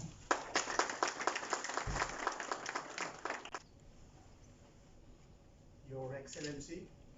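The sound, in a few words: audience applause at award ceremony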